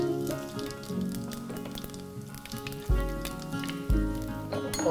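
Dal tadka tempering ingredients crackle and sizzle in hot oil, with a dense steady hiss, scattered pops, and two sharp low thumps partway through.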